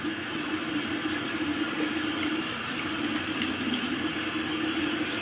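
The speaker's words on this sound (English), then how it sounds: "I just run my hand under the water and then touch it on my face" Steady water streams from a bathroom tap over a hand during a shaving routine, a continuous close, even splash and hiss with no talking.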